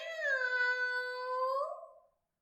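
A single drawn-out meow from a person imitating a cat, clear and alone, fading out at the end.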